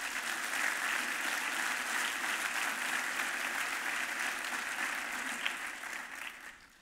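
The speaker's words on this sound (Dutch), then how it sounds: "Mooi applaus zou ik daarvoor willen krijgen." An audience at a D66 party congress applauds steadily, a dense, sustained clapping that holds evenly for several seconds before tapering off toward the end.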